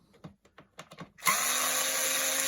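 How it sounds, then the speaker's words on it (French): A cordless screwdriver whirs up and runs steadily to unscrew Phillips screws under the switch of an Expert steam vacuum cleaner, after a few faint knocks and handling sounds. "je vais utiliser une visseuse dévisseuse"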